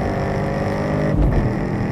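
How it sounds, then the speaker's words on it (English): A 2013 Chevrolet Camaro V8 pulls hard under acceleration, its deep, steady engine roar loud and close throughout with a brief surge in low rumble partway through. "A nice V8 soundtrack the whole way."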